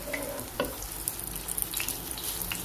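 Noodle pakoras frying in hot oil give a steady, close sizzle with fine crackling and a few soft clinks and stirring scrapes, and no voices.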